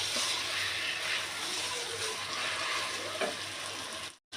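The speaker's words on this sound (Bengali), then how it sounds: "এখন চালটাকে খুব ভালো করে ভেজে নিতে হবে" Rice for basanti pulao fries and is stirred in a pan, giving a steady broadband sizzle with occasional scraping stir strokes, close and continuous until it cuts off abruptly near the end.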